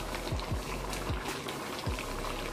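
A paste of onion, tomato and coconut simmers in a pan for shrimp masala, giving a soft continuous sizzle and bubbling with a few faint pops, fairly close and steady.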